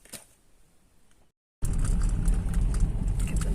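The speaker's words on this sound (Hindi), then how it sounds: "जब कोई गाड़ी आएगी बस तभी थोड़ा सा सुनाई देगा" A car approaches along a quiet, otherwise silent road, its faint hiss and rumble swelling up after a brief pause and holding steady as it draws near.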